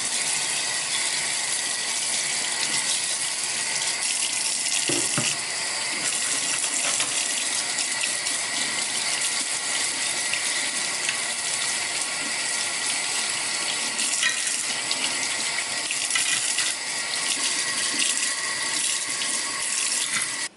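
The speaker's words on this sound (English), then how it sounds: "just rinse them all off with water and make sure there's no leftover soap" Tap water runs steadily into a sink as barber tools are rinsed of soap, a loud continuous hiss with occasional clinks of metal against metal and no talking.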